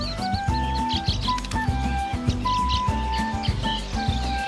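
A young male weaver bird calls at his nest, a busy run of high chirps and tweets over a steady low background rumble, fairly close and continuous.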